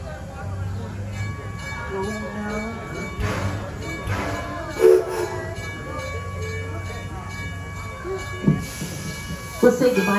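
A passenger train on a ride around a village rumbles steadily along with hissing and mechanical clatter, a few sharp clanks and thumps, with faint talk in the background.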